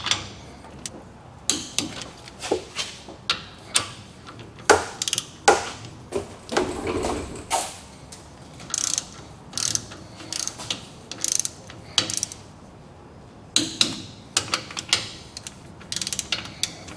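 Ratcheting clicks and mechanical tick-tocks from a torque wrench tightening the differential bearing caps on a Dodge Ram 1500 rebuild, in irregular close bursts of sharp clicks with brief pauses between pulls.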